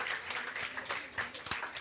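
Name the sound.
congregation applause in church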